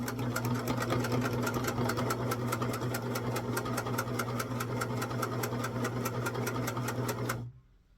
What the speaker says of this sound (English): This is called chain sewing, when you push a bunch through at once.